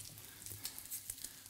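Bacon and savoy cabbage leaves frying in a pan give a quiet, steady hiss and crackle with faint scattered pops and no talking.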